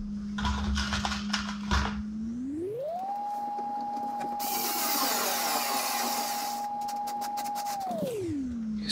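A cordless power drill drives screws into a DIY fiberglass tonneau cover, its motor whining steadily up to a higher pitch, holding, then winding back down, with brief handling clatter before and after.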